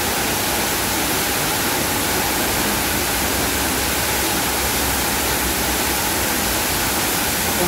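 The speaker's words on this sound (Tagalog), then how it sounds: "Saka nakikita mo rin yung waterfalls." Water pours steadily from a waterfall inside a cave, a dense, constant broadband rush that stays loud and unbroken with no voices.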